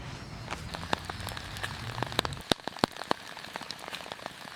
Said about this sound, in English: it's started raining again.